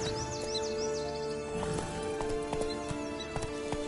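Roach, the horse in The Witcher 3: Blood and Wine, clip-clops along in a steady hoofbeat rhythm under game music and ambience, with a brief neigh early on and no talking.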